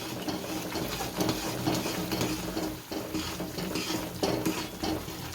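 Gundar paak mixture being stirred in a pan, a steady scraping and clinking of a spoon against metal with a soft sizzle underneath, continuous and close throughout.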